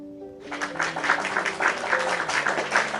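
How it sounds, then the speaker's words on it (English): Soft, steady clapping of paws together in an audio story's forest scene, starting after a quiet moment and continuing as rhythmic, gentle applause with faint background tones. "Then, from somewhere in the circle, Ember began to clap his paws together."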